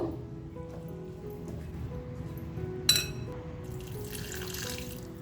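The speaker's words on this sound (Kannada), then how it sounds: "ಇವಾಗ ಸ್ವಲ್ಪ ಸ್ವಲ್ಪನೇ ನೀರು ಹಾಕ್ಕೊಂಡು ಕಲಿಸ್ಕೊಳ್ಳೋಣ" Water added little by little to dosa-style batter while mixing, heard as a quiet trickle and faint stirring with one sharp clink of a utensil midway, followed by a brief splashy wash of water.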